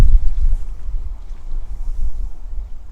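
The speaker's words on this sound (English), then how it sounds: "Now that wind's picking up." Strong outdoor wind buffets the microphone in a low, rumbling roar that swells and dips unevenly without pause, with no voices over it.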